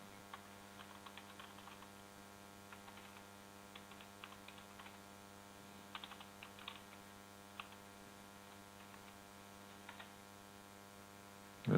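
Keys on a computer keyboard are tapped in short scattered bursts, quiet and close, over a faint constant electrical hum, with a louder knock at the very end.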